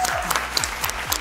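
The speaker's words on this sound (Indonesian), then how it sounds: "Oke, tepuk tangan dulu." Brief applause after a prize presentation at a sports event, a short burst of a few sharp claps with light crowd noise underneath.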